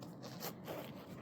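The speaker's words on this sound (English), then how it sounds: "So we have the zipper" A close, quiet zipper on a watch case being pulled in a few short rasping strokes, with soft scraping between them.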